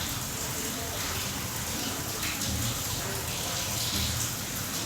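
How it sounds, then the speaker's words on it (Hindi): Heavy rain falls outside a home kitchen, a steady dense hiss and patter filling the background without pause, with no clear talking. "देखिए आवाज़ आ रही है बारिश की।"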